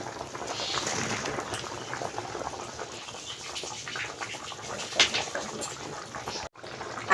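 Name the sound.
fish curry boiling in a pot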